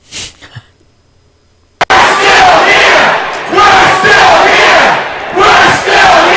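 A crowd at a motor vehicle department office in Bridgeport, a brief faint sound, then a loud sudden surge of mixed voices and shouting that rolls on in swelling waves.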